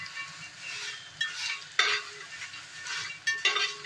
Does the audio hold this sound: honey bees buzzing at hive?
no